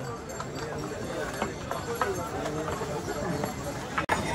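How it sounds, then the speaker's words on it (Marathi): Horses lined up on the Kedarnath pilgrimage trail clip-clop on the mountain path, irregular hoof strikes at moderate distance, mixed with crowd chatter and people talking. "असे लाईनीत घोडे लावलेत बघा."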